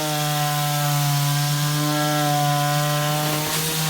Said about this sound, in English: So get 80 grade sandpaper and just kind of keep going around it.